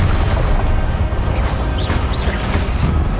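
A Confringo spell blast in Hogwarts Legacy gives a loud, dense, rumbling burst that stays heavy and continuous throughout, with crackling debris over the low boom.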